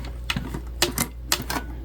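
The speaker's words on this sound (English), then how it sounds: "so I'll just hand crank through it again" Hand-cranked sewing machine stitching through a thick seam where a bag's gusset meets the zipper panel, giving four or five sharp mechanical clacks in an uneven rhythm over a steady low hum, close and alone without talk.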